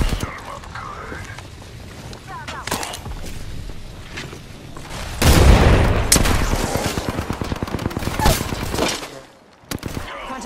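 Rapid gunfire from the Apex Legends video game, with scattered shots at first, then a loud, dense barrage of close automatic fire that swells midway and keeps going with a voice speaking over it.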